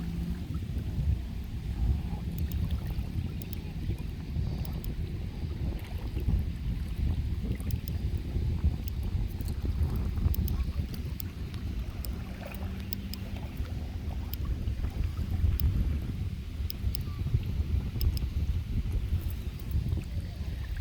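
Steady wind buffeting the microphone outdoors with a constant low rumble and gusty texture, water faintly lapping beneath, no one speaking.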